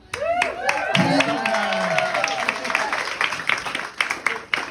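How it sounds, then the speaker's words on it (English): Audience applause and clapping at a stand-up comedy show in Washington, DC, a dense, steady burst of many hands lasting several seconds, with cheering voices mixed in. "Can we also give a round of applause for my roommate Adam?"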